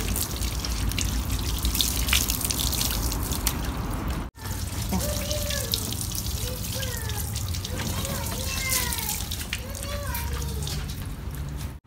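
Water running and splashing steadily over a car headlight being rinsed clean, a continuous close wash with brief dripping and a short pause midway, while a person talks over it.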